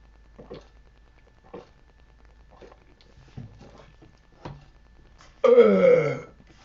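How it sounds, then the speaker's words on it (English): A loud, drawn-out burp after sips of beer, rasping and rolling for about a second near the end, following several faint, scattered knocks and small sounds. "Colorful burp."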